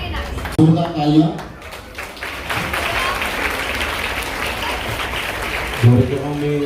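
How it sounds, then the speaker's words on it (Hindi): Loud, dense clapping fills a community event for a welfare trust's free ration card and fee distribution, the applause sustained through the middle with a voice speaking briefly at the start and end. "जोरदार तालियां।"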